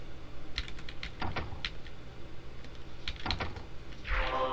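Computer keyboard keys, the WASD movement keys, tapped while playing Club Penguin: a few irregular, close clicks and clacks over a low room hum, with a brief louder rustle at the end.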